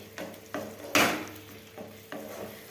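Onion and tomato curry frying in a pan, with a soft steady sizzle broken by several scraping stirs of a spoon against the pan, one louder clattering stir near the middle, no voices.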